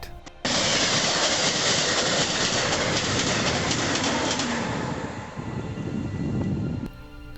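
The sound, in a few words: train passing through station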